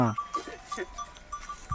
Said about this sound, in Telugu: ఇక్కడ ఆల్రెడీ మేకలు కూడా ఉన్నాయి